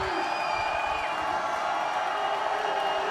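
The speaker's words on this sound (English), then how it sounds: "GP crowd getting loud." A high school football crowd at Glacier Peak swells into a sustained, roaring cheer with whoops and whistles, steady and fairly loud throughout.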